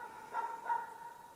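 Dogs barking somewhere in a home, two faint, muffled barks in quick succession set back from the listener over a quiet background.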